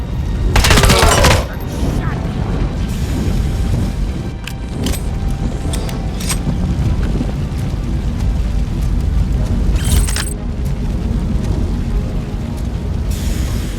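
Game gunfire from RoboCop: Rogue City, a loud burst near the start followed by scattered sharp shots over a constant dense backdrop of combat noise and engine rumble, with radio-style voices talking throughout.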